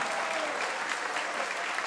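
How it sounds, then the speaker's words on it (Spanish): An audience at a university concert in Valparaiso claps in dense, sustained applause that holds steady for its whole short length, with no speech over it. "lo más justo es que esta noche ustedes mismos se den un gran aplauso por haber cantado tan bonito estas canciones"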